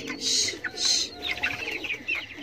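Chickens in a coop, a couple of loud nearby squawking calls followed by softer clucks and murmurs from the flock.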